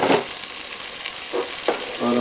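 Tomato goes into a pan of sizzling golden fried onion and garlic for a spinach stew, making a brief, loud, close frying hiss with small bursts of crackle as it lands and is stirred.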